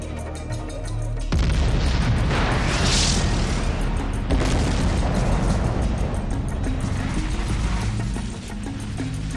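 A nuclear test explosion at Bikini Atoll in the Pacific: a sudden loud boom kicks in after a quiet start and gives way to a sustained, dense roaring rumble that rolls on for several seconds before easing slightly.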